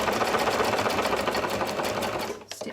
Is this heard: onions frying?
no